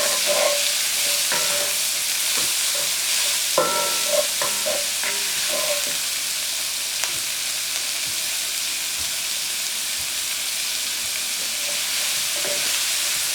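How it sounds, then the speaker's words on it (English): Chopped celery and scallions sautéing in a pan: a loud, constant hiss of frying with occasional clinks and scrapes of a utensil, heaviest in the first half, no talking. "So you're going to saute these up as well"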